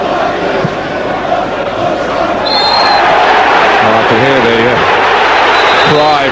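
Football stadium crowd noise at Liverpool vs Manchester United, a loud continuous roar of thousands of fans with rising chants, under a commentator's voice.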